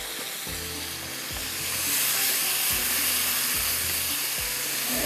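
Cabbage and capsicum fry in oil with a loud, even hissing sizzle that swells slightly midway, close by, over a low repeating tonal background.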